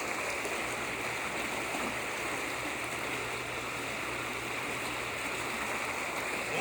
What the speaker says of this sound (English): It is a strong current, but it is not going to make a ton of bubbles.